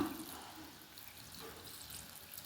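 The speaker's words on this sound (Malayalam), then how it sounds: "നല്ല ചൂടുള്ള കഞ്ഞിവെള്ളമാണേ ഒഴിച്ചു കൊടുക്കാം" Hot rice water (kanji water) is poured over leaves, making a soft, continuous watery rush that is faint and steady throughout the brief moment, with no talk.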